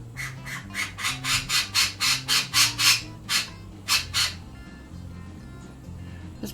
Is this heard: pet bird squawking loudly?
yes